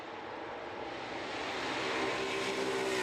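GT4 race cars roar down the Andretti straightaway at Canadian Tire Motorsport Park during a sprint race, a steady loud engine drone that swells slightly as they pass.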